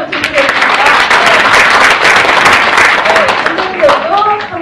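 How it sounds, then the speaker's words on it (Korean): Loud, sustained applause from an audience at a children's storytelling event, honoring the parents present; thick, even clapping fills the whole stretch while voices and murmurs rise within it. "부모님께 먼저 손을 박수 한번 주시겠습니다"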